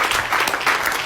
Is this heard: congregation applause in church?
yes